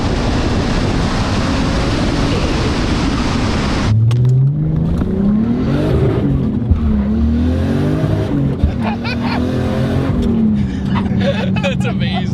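A big-turbo Lexus IS300 sedan accelerates hard from inside the cabin. A loud engine note climbs steadily in pitch, drops at a shift, then pulls upward again with continuous roar and road noise throughout.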